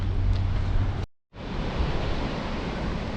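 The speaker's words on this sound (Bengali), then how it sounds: "সমুদ্র" Sea waves wash in at a beach on Cox's Bazar Marine Drive at low tide, a steady, broad roar of surf mixed with wind. A brief gap breaks the sound partway through, and there is no talk.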